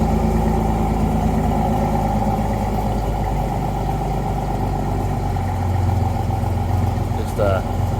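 A 1986 Pontiac Fiero GT idles steadily with a low, continuous engine rumble close to the microphone, and a brief higher whine or chirp near the end.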